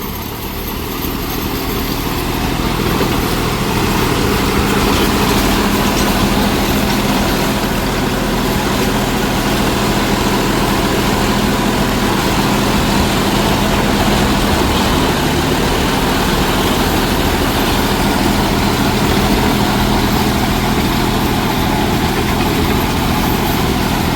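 A Swaraj 963 FE tractor drives a Mastro Thunder rotary tiller through a banana field, its diesel engine holding a steady, loud, continuous drone with a broad churning roar throughout, no voices.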